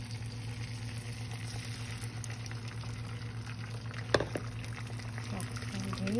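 Liquid mixture poured into a pan while cooking a Roti John wrap, a soft steady sizzle and bubbling hum throughout with a couple of brief clinks near the end.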